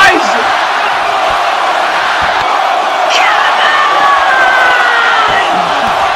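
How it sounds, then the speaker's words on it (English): A large wrestling event crowd roars and cheers in a dense, continuous wall of noise, loud and sustained, with whoops and shouts rising through it. "The crowd wants another one!"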